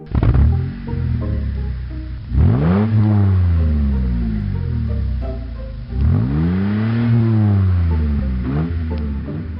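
A toy car engine in a Minecraft game is started and revved, rising in two loud swelling surges of rumbling, whining tone that fall back to a steady idle, close and dominant with no talking.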